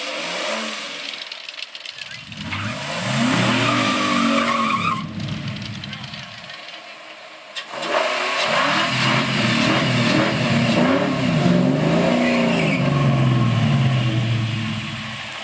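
Drag race cars launch and roar down an eighth-mile strip at Hook City, engines swelling loud in two long passes with a lull between them, crowd chatter and voices mixed in.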